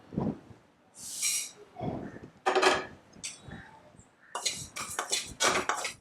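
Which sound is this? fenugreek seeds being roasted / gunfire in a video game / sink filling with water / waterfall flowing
fenugreek seeds being roasted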